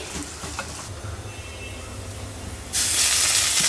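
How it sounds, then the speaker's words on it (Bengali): Onions with cumin, coriander, turmeric, chili and salt frying in oil in a home kitchen, a low sizzle that jumps to a loud, steady hiss partway through. "তেলের উপরে পেঁয়াজ ভেজে সব মশলা দিছি জিরা ধনিয়া হলুদ মরিচ লবণ মশলাটা কষাই নেই"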